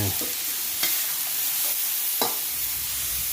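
Long beans seasoned with fish sauce stir-fried in a hot pan: continuous sizzling hiss with a few spatula scrapes and taps against the pan, close and alone.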